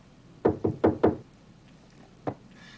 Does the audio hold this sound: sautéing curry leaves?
no